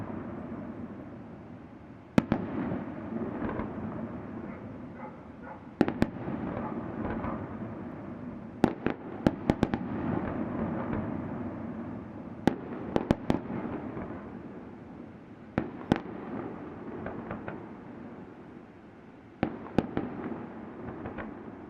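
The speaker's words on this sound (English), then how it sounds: "fireworks show going on over the lake" Fireworks show bursting over a lake in Italy, heard from a distance: a low continuous rumble of booms punctuated by sharp, loud cracks, some arriving in quick clusters, with no talking.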